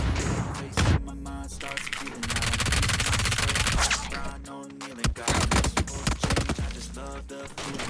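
Gunfire in a video game rings out in dense, rapid bursts and sustained volleys, loud and close, with players talking and laughing over the shooting.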